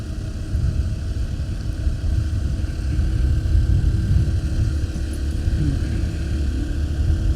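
A motorcycle climbs a hill, its engine holding a steady low rumble with a faint hum above it, mixed with constant wind noise over the whole stretch.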